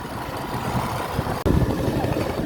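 A Honda CB Shine motorcycle engine runs with a steady, close, low rumble, briefly dropping out for a moment before continuing just as loud.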